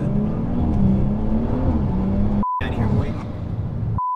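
Stage 2 BMW 340i pulling hard from inside the cabin, a loud rising engine drone that runs steadily with a brief dropout midway, while people talk over it.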